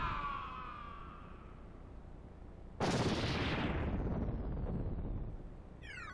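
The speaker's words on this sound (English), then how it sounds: "in Kirby games, explosions mean that there's no way they survived that" A booming explosion in the video game Super Kirby Clash bursts in after a quiet stretch of game music and sustains as a loud, broad rumble for several seconds before chiming effects return.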